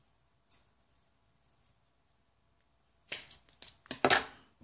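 Kanthal resistance wire, about a foot long, snipped in half, giving a few sharp close clicks and snaps of the cut after near silence, with no talking.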